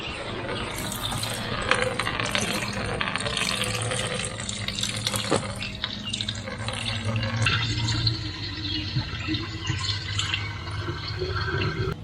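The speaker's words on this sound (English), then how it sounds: "Now we're gonna go ahead and drain the water again." Water draining out of an RK25 tractor during a 300-hour service, a continuous splashing, gurgling pour with mechanical clinks, steady and close with no talk over it.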